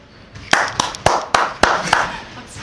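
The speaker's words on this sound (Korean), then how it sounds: "하나 둘 셋 하면 박수 한번 맞춰주세요." A group claps on a count in a Korean audition show, giving several sharp, separate hand claps in quick succession, loud and close, with voices talking between them.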